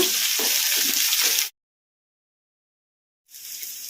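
Sliced onions dropped into hot oil seasoned with popped mustard and cumin for an Andhra brinjal pachi pulusu, a loud bright sizzle that cuts out abruptly, then resumes after a short silence.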